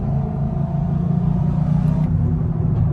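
A Chevrolet Camaro SS engine drones loud and steady from close by, a deep continuous rumble with no clear break between gears.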